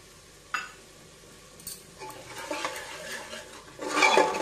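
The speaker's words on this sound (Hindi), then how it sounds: "सभी मसालों को हम मिला लेते हैं।" A metal spoon stirs and mixes spices in a pan for a spicy banda vegetable curry, scraping and clinking softly at first, then growing louder with a brief sizzle toward the end.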